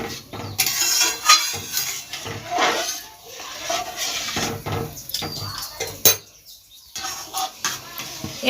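A lid set down over a pan of simmering coconut-milk egg curry gives a few close metallic clatters and clinks, with some scraping and handling noises before and after.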